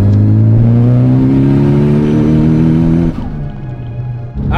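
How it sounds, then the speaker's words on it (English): A turbocharged Mitsubishi Evo 8 making about 420 wheel horsepower on 36 psi of boost accelerates hard on wet pavement. Its loud, close engine note rises steadily for about three seconds, then drops off sharply as the throttle lifts, leaving a lower drone. "I just did one more pull and we blew something else on the car"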